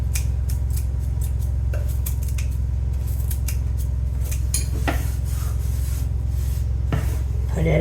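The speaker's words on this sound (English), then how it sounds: "build your hill again and just go across it with your scissors" Scissors skim steadily across the top of a heaped pile of dried stevia leaves, giving a continuous close dry rasping and rubbing with a few sharper snips and crackles, no voices.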